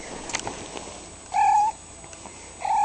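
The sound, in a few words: cat meowing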